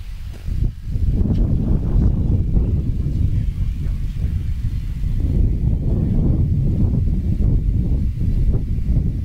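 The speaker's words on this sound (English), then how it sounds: "the wind is picking up" Gusty wind buffets a microphone at an outdoor archery field during a U.S. Open match, a steady low roar with rustling bursts, no clear speech.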